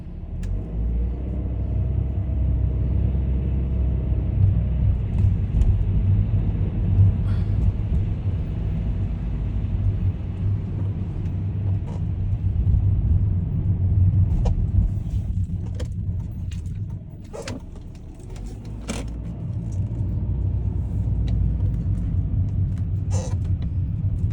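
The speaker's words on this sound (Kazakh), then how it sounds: "Камри алып бара жатырмыз үй жаққа қарай өзіміз" A Toyota Camry 70 drives along the road, heard from inside the cabin as a steady low engine and tyre rumble, with scattered small clicks and creaks in the second half.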